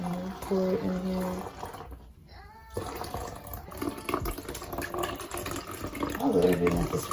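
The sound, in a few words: pouring liquid into ice mold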